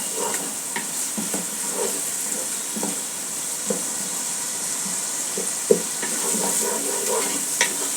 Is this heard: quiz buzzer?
no